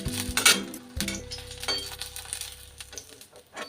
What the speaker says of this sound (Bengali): এমনি করে আমি লাল লাল করে ভেজে নিলাম।